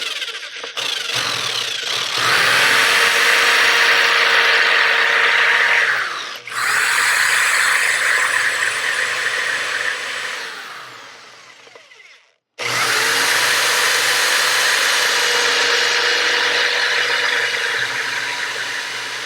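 A power drill bores into a metal part that has soaked in Evapo-Rust, running at a loud steady whine in long bursts, slowing and stopping twice before spinning up again, close up and with no talking.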